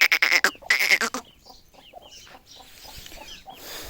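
Aseel chickens cluck and squawk loudly in a few bursts up close, then fainter scattered clucks and chicken calls continue over quiet farmyard background.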